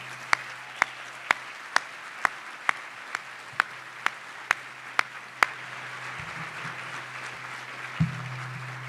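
Applause rises at a chamber of commerce awards breakfast, tribute to military members and first responders. Loud, evenly spaced single claps near the microphone ring out over a softer ongoing patter from the room, then the sharp beats stop.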